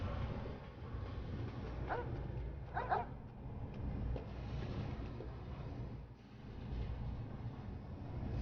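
Dogmeat, the dog companion in Fallout played through the Tale of Two Wastelands mod for New Vegas, gives a few soft barks and whimpers amid a constant low game ambience.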